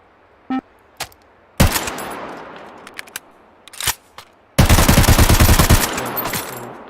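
Incendiary rounds fired in a game, with a few single loud shots followed by sharp bursts and a long rapid automatic volley, punchy and close with no talk.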